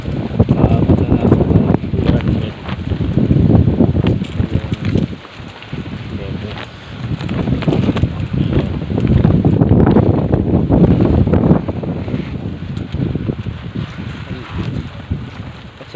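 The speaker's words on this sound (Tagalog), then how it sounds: "Sobrang lakas ng amihan ko dito, mga probinsya ng Mindoro." Strong northeast monsoon wind gusts across a farm in Mindoro, roaring steadily into the microphone with surging buffets throughout, while a voice talks underneath.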